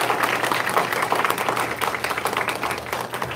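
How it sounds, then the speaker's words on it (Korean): Audience applause at a church testimony gathering, a dense, steady wash of clapping from a crowd that holds fairly loud through the whole stretch with no clear break. "다시 한번 박수 한번 부탁드립니다"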